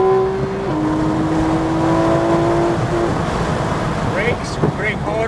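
Inside a Porsche 911 GT3 RS at New Jersey Motorsports Park, the engine pulls strongly through an upshift with a steady rising drone, close and loud, while a coach's voice talks over it.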